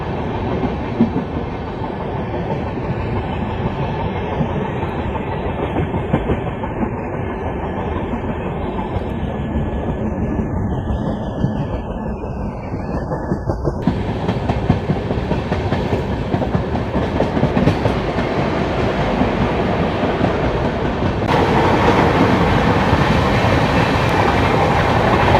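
The Coromandel Express runs through Samalpur Junction station without stopping, a steady loud rumble of wheels and rail clatter with clickety-clack that continues throughout, no voices.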